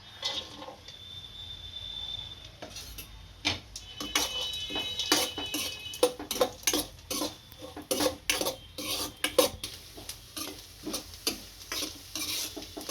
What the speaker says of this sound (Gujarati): આ કાજુ અને બદામ અને કિસમિસ ઘીમાં પહેલાં શેકી લેશું